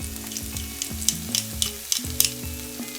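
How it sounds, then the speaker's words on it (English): Crushed garlic fries in a teaspoon of melted butter in a pan or wok, sizzling steadily up close. Scraping stir strokes and light clinks of the utensil break through now and then, with no talking. "crush 1 clove of garlic and fry until fragrant."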